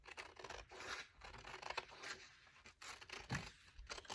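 Scissors cutting out a paper face mask pattern, a close, quiet run of crisp snipping and rustling strokes in steady succession.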